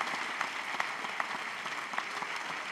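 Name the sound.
audience applause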